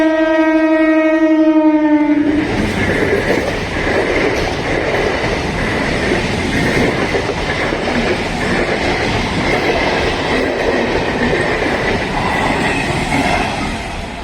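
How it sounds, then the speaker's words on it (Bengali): A loud train horn blares for about two seconds, then the Darjeeling Mail rumbles and clatters past on the rails at Jalalkhali station, steady and close for the rest. "ট্রেনে ঢুকে গেছে প্রায়"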